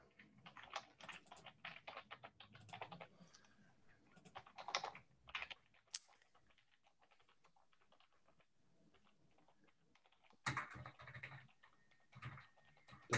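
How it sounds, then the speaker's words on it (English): Computer keyboard typing into an online chat during a web session, quiet bursts of rapid clicking keystrokes with a pause in the middle, close and alone with no talk. "I'm just typing in there to the chat feature."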